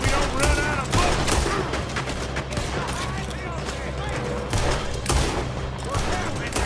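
Rapid gunfire crackles from many guns at once in a shootout in Red Dead Redemption 2, dense overlapping bursts with loud sharp reports that run without letup.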